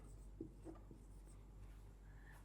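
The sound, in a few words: teacher writing on a board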